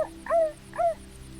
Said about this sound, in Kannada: ದೂರದಲ್ಲಿ ನರಿಗಳ ಕೂಗು,